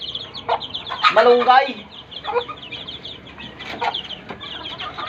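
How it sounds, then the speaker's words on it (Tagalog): Young chicks peep and cheep on a Philippine game farm, with adult chickens clucking nearby; the bird calls run in short bursts close by while someone talks over them. "Tingnan mo yung alaga kong sisiw guys."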